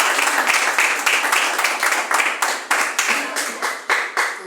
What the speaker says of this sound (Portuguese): dar uma salva de palmas para Jesus Cristo também, igreja?